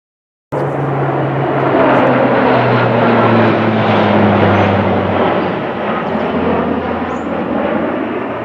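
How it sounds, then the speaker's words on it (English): A C-130 military aircraft passes overhead, a loud, steady propeller drone with a deep throbbing hum that starts abruptly and holds throughout, only slightly fading toward the end. "C-130s are out practicing today."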